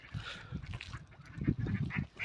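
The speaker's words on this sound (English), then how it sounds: "Oh look, there's black ones with white heads. Whatever they are. What are they, coots or something?" Coots or ducks at a park pond, a close chorus of honking and quacking calls mixed with wing flapping, busy and continuous without pauses.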